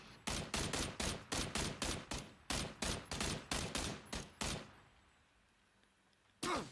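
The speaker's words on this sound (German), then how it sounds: "Einer schießt da. Du wirst beschossen." Rapid bursts of gunfire ring out in a video game shootout, about a dozen loud evenly spaced shots, then a pause and a final shot.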